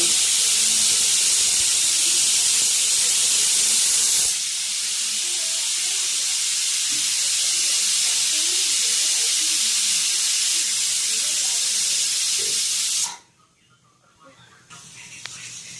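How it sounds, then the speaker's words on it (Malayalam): A pressure cooker cooking jackfruit hisses a loud, steady jet of steam for about thirteen seconds, with a brief change partway through, then cuts off abruptly to near quiet, followed by a fainter hiss near the end. "ആദ്യ വിസിൽ മുഴങ്ങിയിട്ടുണ്ട്."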